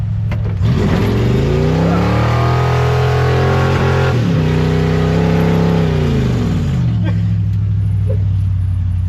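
A farm vehicle engine revs hard and steady, pitch rising and falling in long surges, loud and close, with faint voices underneath.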